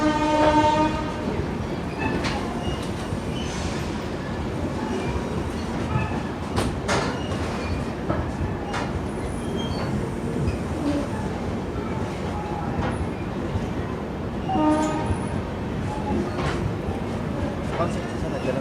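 The Jaynagar–Amritsar clone Humsafar express runs through Jalandhar City with a steady rumble and rhythmic clattering of wheels over rail joints. Horn-like tones sound now and then, and voices are heard over the train noise.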